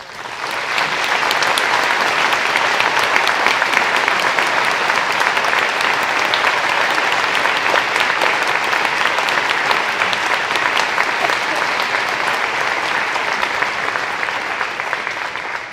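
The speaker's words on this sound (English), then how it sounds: "So if you join me in a round of applause." An audience at a regional band festival concert bursts into loud, sustained applause, a dense roar of clapping that holds steady throughout.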